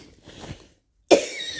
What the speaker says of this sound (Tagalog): Grabe jud kini akong ubo